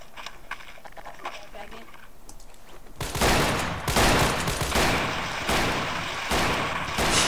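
Gunfire in a video game erupts after a quiet stretch. Loud, dense bursts follow one another for several seconds.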